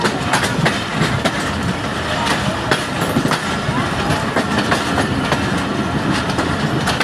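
An HBU-20 locomotive hauls a train past in a loud, continuous rumble, with rapid rhythmic clickety-clack wheel beats on the rails throughout and no clear speech.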